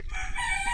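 Roosters crowing at night near the Philippine shore, a brief sustained crow with bright harmonic tones, moderately close over a faint low rumble.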